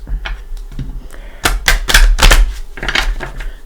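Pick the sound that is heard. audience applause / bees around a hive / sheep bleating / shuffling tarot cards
shuffling tarot cards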